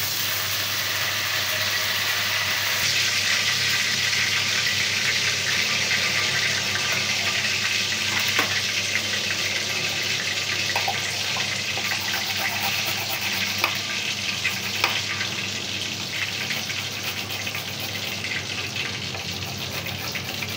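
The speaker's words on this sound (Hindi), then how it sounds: "इसमें डालेंगे हम जीरा" Cumin seeds sizzle steadily in hot oil, a loud continuous frying hiss with a few faint clinks and stirring sounds and no voices.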